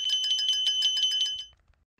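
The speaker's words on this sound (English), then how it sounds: "Maybe he liked one of these bells." A small bicycle-style bell rings in a rapid run of bright, repeated dings for about a second and a half, close and clear, then stops abruptly into near silence.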